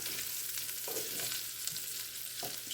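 Sausage frying in a pan for biscuits and sausage gravy, giving a steady dense sizzle throughout with occasional stirring scrapes, close and continuous with no talking.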